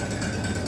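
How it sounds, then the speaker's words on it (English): A Minneapolis Moline BF tractor engine idles close by with its exhaust and muffler removed, a raw, loud, low-pitched rumble that stays steady throughout and is heard alone. "that's what she sounds like without the exhaust and idle, without the muffler"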